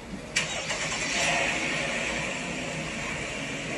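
A car engine cranks and catches with a sharp burst, then settles into a steady mid-pitched run as the vehicle pulls away, heard from a short distance outdoors with no talking.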